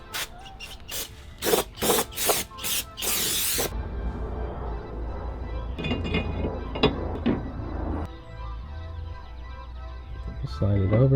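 Brake cleaner sprayed onto the brake calipers and parts of a 2002 SN95 Mustang GT, in several short hissing bursts followed by a long blast, then quieter brushing and clanking with speech in between.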